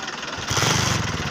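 Idling engine of a newly bought car with a steady low rumble and rapid pulsing that grows louder halfway through, heard close up.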